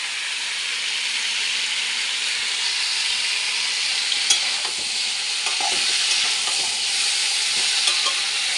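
Mixed vegetables for a five-vegetable curry frying in a pan, a loud continuous hissing sizzle with intermittent scraping clicks of stirring, close up and without speech.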